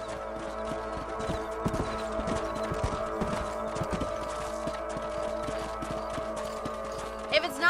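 Horse hooves clip-clopping in the video game Red Dead Redemption, a steady rhythmic trot under a sustained musical or ambient drone, with a sharper burst at the very end.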